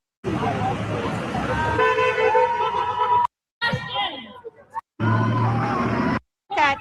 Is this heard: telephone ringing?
no